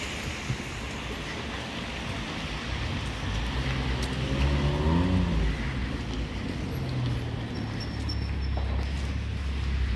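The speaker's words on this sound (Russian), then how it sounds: "Как же задолбали эти машины." Cars drive past on a snowy, slushy city-centre street, a steady near roar of tyres and engines that swells as vehicles pass, with no voices over it.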